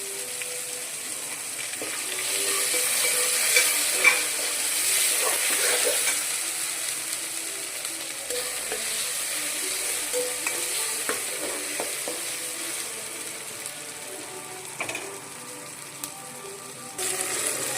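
Ginger garlic paste fries and gets stirred in a pan, a steady soft sizzle with scraping stirring strokes and occasional clicks, close and continuous with no talking.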